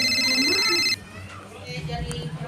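An electronic telephone ringtone chirps loudly and close for about a second, then cuts off, followed by quieter room sounds and a voice.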